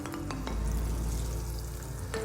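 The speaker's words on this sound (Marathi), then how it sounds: "आता हे वडे मी या तेलामध्ये सोडून घेते" Chana dal vadas fry in hot oil in a kadhai, giving a steady close sizzle with a few sharp crackles and pops, and no voices.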